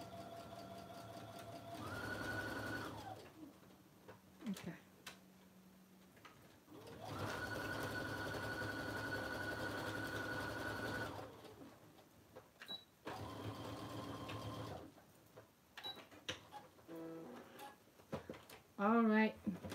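A sewing machine top stitches a messenger bag in two sustained humming runs with pauses between them, close and moderately quiet, with handling clicks and a voice speaking in the gaps.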